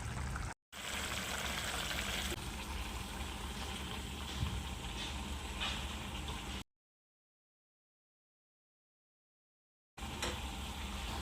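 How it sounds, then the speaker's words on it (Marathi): Spicy matki (moth bean) rassa curry simmers at a rolling boil in a pan, giving a steady close bubbling hiss that cuts out briefly midway before resuming. "किती सुंदर उकळी सुद्धा आली आहे"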